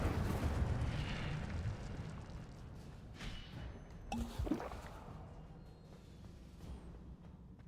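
Incendio fire spell in Hogwarts Legacy, heard as rumbling low whooshes and bursts with a few sharp cracks amid ongoing game sound, moderately loud with no clear speech.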